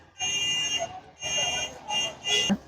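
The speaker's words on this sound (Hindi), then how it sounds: "ये भी शॉर्ट दिखा रहा है, बीप का साउंड आ रहा है, ये भी शॉर्ट है।" Multimeter continuity tester beeping on a shorted diode in a dish power supply board, four close, shrill electronic beeps of varying length separated by short gaps.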